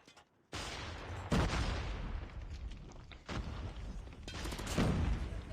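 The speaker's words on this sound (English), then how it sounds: "NJ, there's definitely body shooting" Gunfire in the mobile shooter Call of Duty Mobile during a competitive league match, with dense bursts of shots and booms starting after a brief lull, loud and continuous, flaring again near the middle and end.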